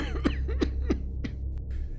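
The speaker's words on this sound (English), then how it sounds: "A fit of coughing put an end to what he was saying" A string of harsh coughs comes in quick succession, about five in two seconds, close and loud over a low background hum.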